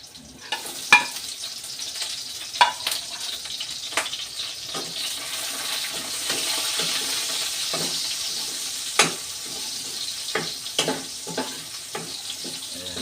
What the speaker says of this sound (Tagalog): Ilalagay na rin po natin itong ating sibuyas.